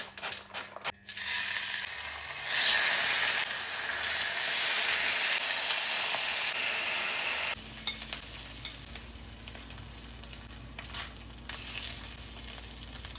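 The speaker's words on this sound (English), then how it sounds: "Smoke bacon" Smoked bacon sizzling and crackling in a frying pan for a homemade burger, a steady broadband hiss that drops to a quieter sizzle partway through, with some stirring or scraping.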